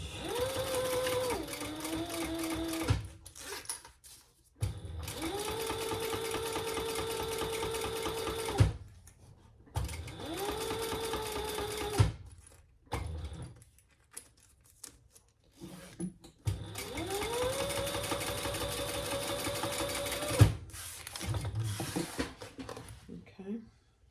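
A sewing machine top stitches a crossbody sling bag in several close, loud bursts of rapid stitching separated by short pauses, with someone talking in between.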